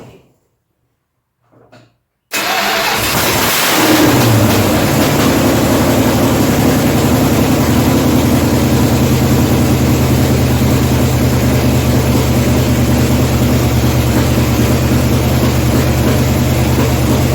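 A 1972 Dodge Challenger, just fitted with a new fuel pump, cranks and fires after a short quiet pause, then settles into a loud, steady, rumbling idle close by for the rest of the stretch.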